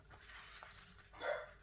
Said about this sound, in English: we've got a barking dog in the background